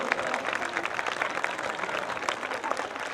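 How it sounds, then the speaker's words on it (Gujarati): Steady applause from a seated audience at a Prajapati community prize-distribution ceremony in Surat, a dense, continuous clatter of many hands, fairly close and unbroken throughout. "જ્યાં સુધી એમનું સન્માન ન થાય ત્યાં સુધી તાળીઓ ગણગણ શરૂ રહેવો જોઈએ"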